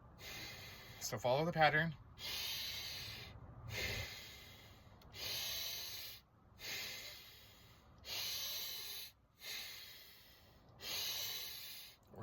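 Slow, deep breathing during a guided breathwork session: a steady cycle of long, hissing breaths in and out, each lasting about a second or more, heard close up after a short spoken instruction.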